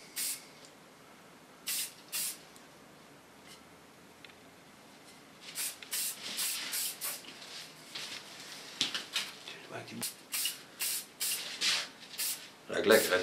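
Hairspray, a not-too-hard hold, spritzed onto hair during a long-to-bob restyle, in repeated short hissing bursts, a couple early then a rapid run of closely spaced sprays, with people chatting underneath.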